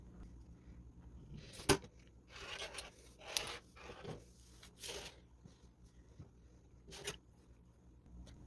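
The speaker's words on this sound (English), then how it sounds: "So I'm just going to cut out 2 rectangles just to demonstrate a few things." Scissors snipping through velvet fabric to cut out two rectangles, a few sharp isolated clicks among soft scattered cutting and rustling, quiet and close.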